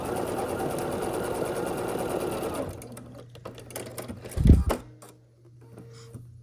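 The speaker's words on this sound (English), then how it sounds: "once it's laid out nicely, then we start sewing here" A sewing machine stitches quilt block pieces, running in a fast steady mechanical whir for about three seconds, then stopping to scattered clicks, a brief louder thump and a low hum.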